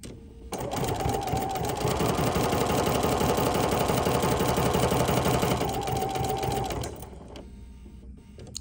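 A sewing machine stitches fabric trays, its needle hammering in a rapid, steady mechanical rhythm for about six seconds, close and clear, then slowing to a stop.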